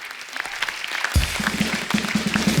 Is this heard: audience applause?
yes